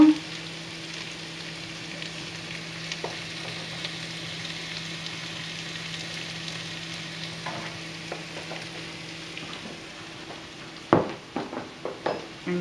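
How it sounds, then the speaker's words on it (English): An onion and flour mixture sizzles steadily in a pan while being stirred, the frying hiss constant and close, with sharper scraping clicks of the spoon picking up toward the end. "just give that a bit of a stir around just to cook the flour out for about 30 seconds"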